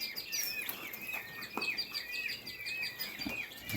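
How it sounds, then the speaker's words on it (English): Newly hatched teal ducklings in a brooder, giving many thin, high, fairly faint chirps that overlap in a continuous twittering chorus; no talking. "here is some more teal ducks that hatched out last week"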